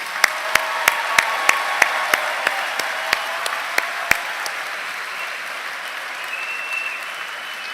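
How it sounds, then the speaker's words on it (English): At a university commencement ceremony, a series of separate, evenly spaced sharp claps rings out over a large hall, slowing and stopping after about four seconds and leaving quiet room tone. "How about one more round of applause?"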